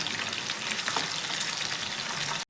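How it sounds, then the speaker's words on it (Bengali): Pieces coated in rice flour fry in a pan, giving a steady, close, loud sizzle with fine crackling throughout, then a brief dropout near the end. "একটা পাশ ভাজা হয়ে গেলে তবেই আমরা সেগুলোকে উল্টে আরেকটা করে পাশ ভেজে নেব"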